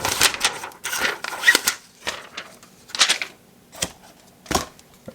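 Plastic wrapping being peeled and torn off a power bank, a series of close, crinkly bursts separated by short pauses, with no talk.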